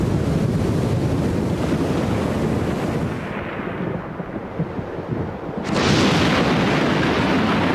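Storm-tossed ocean waves churn and roar in a steady, dense wash, easing slightly midway before surging back loud, with heavy wind buffeting throughout.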